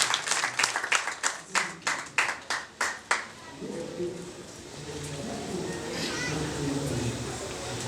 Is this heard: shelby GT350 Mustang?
no